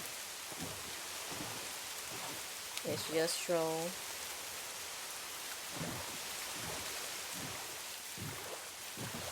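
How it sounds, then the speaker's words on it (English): Rain pours steadily in a Minecraft game with the Homestead mod, a constant close hiss of falling water with low rumbles, while a person speaks briefly over it and a short tonal game sound rises midway. "It's just the rainy sky pouring."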